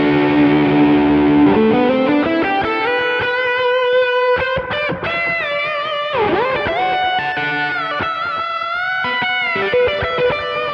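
Electric guitar played through Wampler and Sir prototype distortion pedals stacked together, giving heavy, saturated chords and sustained notes with some bends. The tone is loud and continuous, with no voices.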